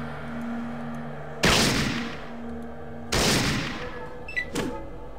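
Gunfire in the Fallout 2 video game: a few loud, close shots, each with a long decaying tail, followed by a smaller burst of metallic clicks near the end.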